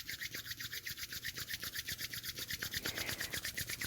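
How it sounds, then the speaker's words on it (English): Palms rubbed together quickly to build heat, a close, steady, rhythmic swishing friction with fast back-and-forth strokes throughout. "beginning to rub your palms together to build a little bit of heat"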